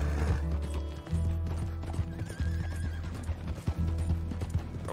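A horse gallops and whinnies in Red Dead Redemption II, with loud, close hoofbeats thudding rhythmically over a low rumbling backdrop.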